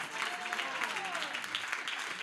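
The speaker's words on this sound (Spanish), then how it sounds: "¿Cuánto le dan palmas de alabanza al Señor?" Congregation in a church clapping in praise, an even wash of many hands applauding throughout, moderately loud with a slight hum of voices underneath.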